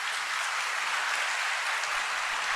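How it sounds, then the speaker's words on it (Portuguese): Congregation applauding during a Catholic Easter-season Sunday evening Mass, a continuous even wash of many hands clapping throughout, fairly loud and with no voices standing out. "Dê uma salva de palmas para Ele,"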